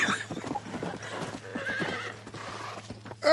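A horse in the Red Dead video game clip-clops at a gallop and lets out neighs and whinnies, fairly close and loud, with a steady low hum beneath and a sharp burst at the end.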